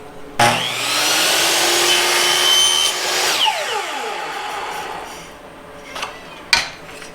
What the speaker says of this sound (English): I want to get my 45 cut on here just like on the other one.